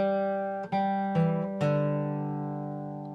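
A beginner's simple melody on acoustic guitar: a handful of clean single notes, each plucked and left to ring, close and moderately quiet with no talking.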